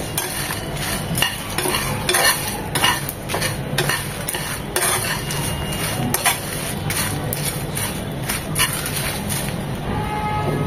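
Whole spices for shahi garam masala are stirred again and again as they dry-roast in a pan, a busy run of scraping and rattling strokes with light crackle, close and fairly loud, no voice over it.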